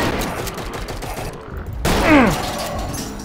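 Rapid burst of gunfire in the video game Garry's Mod, a short volley of loud cracks following a brief hush, with a faint mechanical rattle.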